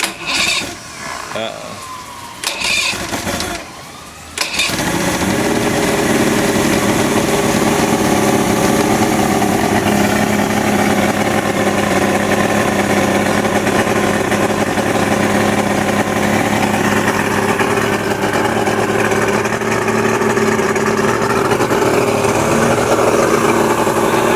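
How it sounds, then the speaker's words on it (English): An outboard engine on an old DuraCraft boat sputters, catches and then runs steadily, idling high with a constant buzzing drone for about twenty seconds. "It's idling a little too high."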